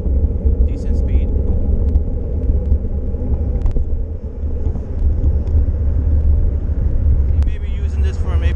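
A Xiaomi Mi 365 electric scooter rides along outdoors with a steady, loud rumble and wind noise throughout, a few faint higher whines and clicks on top.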